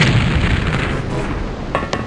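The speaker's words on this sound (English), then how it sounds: "destroying the door and himself using his gas cannon" A gas cannon blast blows through a door in the game Terror From The Deep, a dense, loud booming burst that fills the clip, followed by two sharper crack-like hits near the end.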